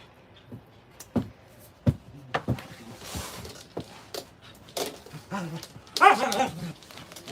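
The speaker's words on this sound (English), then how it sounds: "my dogs are really going to make me mad tonight" Dogs play and bark together indoors: scattered sharp barks, yips and whimpers come in irregular bursts over several seconds, with a louder flurry of excited barking near the end.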